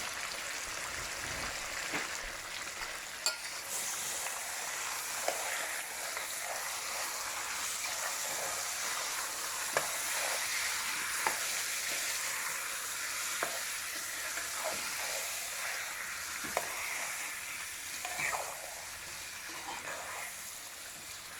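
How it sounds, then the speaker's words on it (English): Jamaican curry chicken sizzles in a pot with a soft, continuous frying hiss, broken by repeated scraping and clinking as it is stirred. "And give that a stir."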